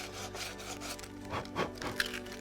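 Sandpaper worked by hand over a repaired ding on a hydrofoil wing gives a steady, close scratchy rubbing with a few stronger back-and-forth strokes near the end, heard alone.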